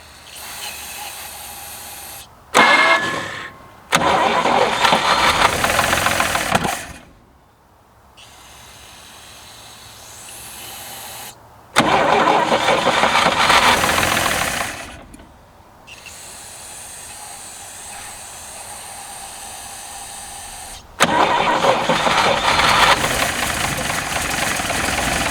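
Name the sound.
1967 GMC C20 V6 engine cranking and running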